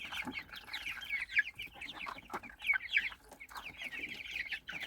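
Young chickens, slightly older chicks, cheep and cluck in quick overlapping bursts, several birds close by chattering continuously without pause.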